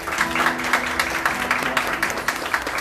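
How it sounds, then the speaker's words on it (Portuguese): A prayer group congregation applauds together, a brief burst of steady, dense clapping with a sustained low tone running underneath. "E vamos aplaudir."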